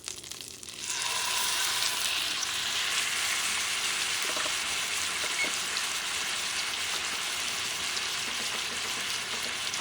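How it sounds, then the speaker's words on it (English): Beef tenderloin hits a hot cast iron pan and erupts into a loud, steady sizzle that continues evenly at close range with no talking. "I'm going to use a cast iron. And I'm going to add this tenderloin carefully."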